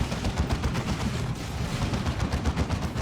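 Heavy bolter gunfire in the Dawn of War 2: Retribution strategy game, a dense, continuous stream of rapid shots tearing through infantry, loud and steady with battle noise layered underneath.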